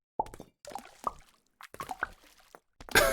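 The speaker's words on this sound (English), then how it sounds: "I love how you can hear the chunks just fall off into the water." Small plops and drips of chunks dropping into water in the city-building game Townscaper, a string of short soft splashes spaced apart, ending in a brighter burst of watery sound.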